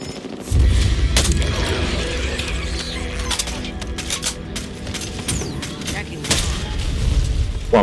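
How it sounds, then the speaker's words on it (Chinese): Gameplay in the video game Back 4 Blood brings a sudden booming explosion amid sharp gunfire bursts and mechanical clicks. Players chat loudly over the repeated blasts. "哇！爆炸喎"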